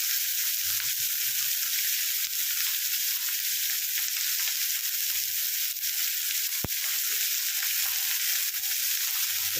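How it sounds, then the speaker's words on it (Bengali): Curry leaves and mustard seeds frying in hot oil for a potato sandwich, a steady close hiss and sizzle with occasional faint pops and stirring. "এই কারি পাতা সর্ষে ফোড়নের গন্ধটা ভীষণ ভালো লাগছে, ভীষণ সুন্দর হচ্ছে। এটাকে এবার ভালো করে আমি ভেজে নেব।"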